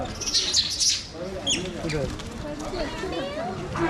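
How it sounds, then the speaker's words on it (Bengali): Birds, likely pigeons, chirp and call around Swayambhu temple in Kathmandu where monkeys and pigeons gather to feed on corn, with scattered bird calls under someone talking close by. "এবং কবুতরও নেমে এসেছে"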